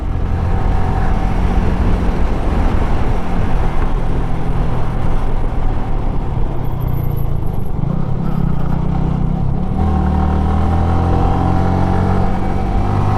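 A motorcycle engine hums steadily through a constant rush of wind on a winding hill road toward Kodaikanal, the pitch shifting as the bike rides along, loud and close throughout.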